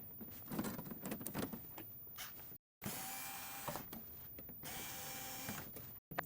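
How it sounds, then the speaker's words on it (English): Cup tray removed from a Sanremo espresso machine during a group solenoid repair, giving close, dry metallic scrapes and rattles in several bursts, broken by two short silences, with no talk. "the first thing you'll need to do is you'll need to take off your cup tray"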